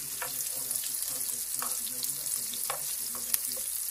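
Carrots and cauliflower fry in a pan for a vegetable plate, giving a steady bright sizzle with small crackles throughout and no voices.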